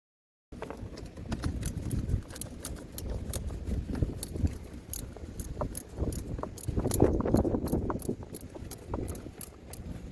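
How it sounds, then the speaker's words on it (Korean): A hose clamp is tightened by hand on the engine of a Kia K5 car during ignition coil work, giving a run of close, rapid ratcheting clicks and small metallic rattles without talk. "클램프도 다시 조여줍니다"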